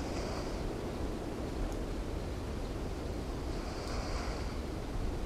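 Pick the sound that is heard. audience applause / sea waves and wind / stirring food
sea waves and wind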